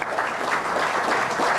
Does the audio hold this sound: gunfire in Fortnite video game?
no